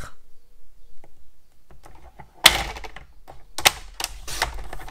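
A 4 by 6 cm piece of card being cut for a beach-hut card, heard as a few sharp, close cutting clunks and crisp snips after a quiet start.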